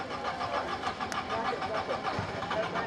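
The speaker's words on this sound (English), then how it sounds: "Despite the help he receives from the marshals, the car still refuses to start, and Sainz must have realised" A Subaru rally car, stalled after a water splash during Rally Australia 1996, has its engine cranked repeatedly without catching, a steady churning starter drone with a crowd murmuring around it.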